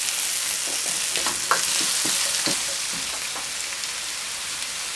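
Peas and carrots hit a hot pan of fried rice ingredients with onions, garlic and ginger, giving a loud, close, continuous sizzle with crackling pops and stirring scrapes in the first half.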